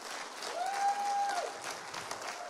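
A church congregation at Rise Church in Jacksonville claps and cheers in a dense, sustained wash of applause with a brief whistle-like tone partway through.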